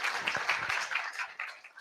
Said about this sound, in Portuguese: vamos agradecer agora batendo palmas de uma forma que ele escute